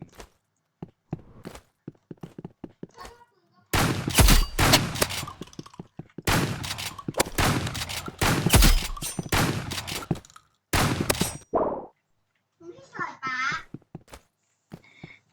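Rapid bursts of video-game gunfire from Roblox come in several loud volleys, with someone talking in between and over them.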